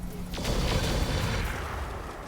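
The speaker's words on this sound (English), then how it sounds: "Fire the UAC-20 last here in hopes that he becomes unsteady before we fire it." A UAC-20 autocannon firing in RogueTech, a BattleTech mech game: a dense, loud burst of heavy booming shots that swells into a sustained rumbling roar and slowly fades, with no speech over it.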